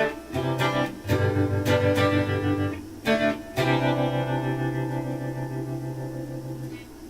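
Fender Telecaster played through a Boss Katana 100-watt amp with spring reverb and chorus, a few strummed chords ringing out with shimmering, lingering reverb tails between strums.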